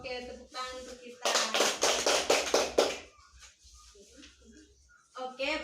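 Classroom students clap their hands together in a short burst of quick, fairly loud claps lasting under two seconds, with a teacher's voice speaking before and after.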